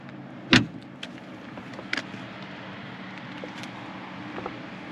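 The unpowered front trunk lid of a Porsche Taycan Turbo S is pushed shut with one sharp, close thud, followed by a couple of faint clicks over quiet background.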